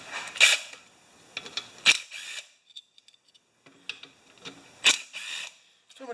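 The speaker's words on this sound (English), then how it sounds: "1/4 inch rat driver, and we're going to take the cover off of this one" A 1/4 inch ratchet driver working on the cover of a 1971 Briggs engine, giving short bursts of clicky ratcheting and metallic handling noises in several clusters with brief pauses between, close and fairly quiet.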